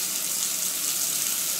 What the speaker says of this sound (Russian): Вода точно строй бьет прямо в ванну.